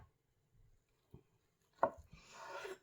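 A knife cuts a rolled Japanese omelette with seaweed, giving a few soft, sparse thuds on a board, quiet and close, ending in a brief rustle.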